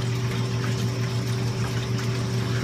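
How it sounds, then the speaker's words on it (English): Aquarium water is agitated and mixed before a zoanthid coral is added, giving a steady churning, pump-like wash of liquid with a low constant hum underneath, close and continuous. "we're just gonna agitate that a bit. We'll just mix that up."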